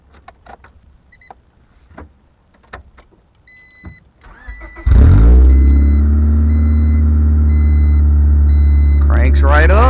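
A cheap Honda Del Sol with a missing catalytic converter: after quiet clicks and a few sounds from inside, the engine cranks briefly and catches, then settles into a loud, steady idle close by, with a voice speaking over the end.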